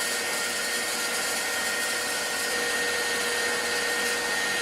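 An electric mixer whips meringue for pistachio macarons, giving a loud, close, constant motor whine with a steady whirring hum and no talking.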